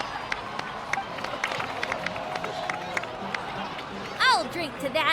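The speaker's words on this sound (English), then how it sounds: "please give another round of applause for them" Applause and cheering from a crowd honoring heroes in Genshin Impact, a steady patter of clapping under faint talk, followed near the end by a brief whooshing game effect.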